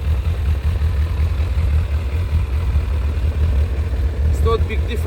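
Honda CBF 1000 ABS motorcycle with its stock exhaust idling close by, a steady low, muffled engine rumble that holds evenly throughout.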